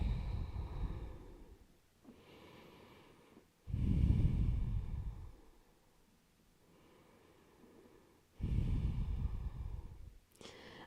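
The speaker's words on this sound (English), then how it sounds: "Breathing into that twist." Slow, deep breathing during a yoga twist, with three loud, airy exhales in a steady rhythm separated by quieter inhales, heard close and alone.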